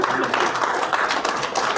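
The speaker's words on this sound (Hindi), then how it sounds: "किसके लिए ताली बजा रहे?" Audience applause at a business motivational event, a dense burst of clapping from a crowd, steady and fairly loud throughout the short span.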